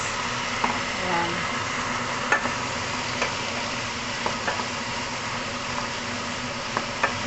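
Beans sizzle steadily in a frying pan as they are stirred, with small scraping clicks over a constant fry and occasional quiet speech.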